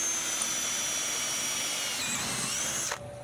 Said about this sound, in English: just take my other drill. I'm going to punch through that hole.